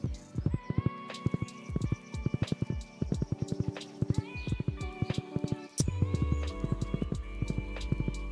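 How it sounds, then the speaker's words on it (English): Horse hooves in the Stardew Valley video game clip-clop in quick, regular bursts, crisp and close, over soft game music with brief pauses between runs of steps. "Horse, what are you doing out here?"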